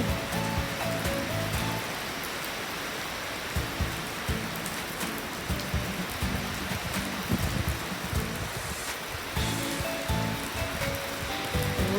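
Heavy rain pours down steadily and loudly outdoors, a dense continuous roar of drops drumming on surfaces with no talk over it.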